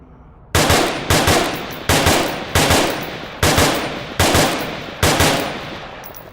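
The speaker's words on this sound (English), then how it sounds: "Now, we're going to shoot downrange." Seven loud, evenly spaced rifle shots fire downrange in an Oculus Rift military shooting simulator, each a sharp crack with a short decaying tail, heard close and alone.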